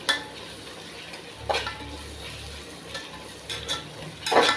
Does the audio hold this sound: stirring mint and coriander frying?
yes